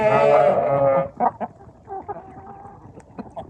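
A rooster-like loud crowing call bursts out first, then several free-ranging village chickens of mixed breeds cluck and murmur in short, scattered notes close by, in a Bulgarian village.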